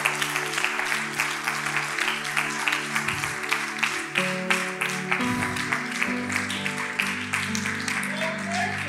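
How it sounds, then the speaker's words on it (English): Church congregation clapping hands in praise, rhythmic steady claps over sustained organ or keyboard chords, with voices speaking or singing along. "Let's give God a great hand clap of praise."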